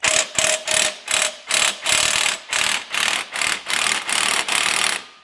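An electric impact wrench with a 5/8 socket hammers at a bolt on a Toro Time Cutter zero-turn mower, giving about ten short, loud, evenly spaced rattling bursts close by.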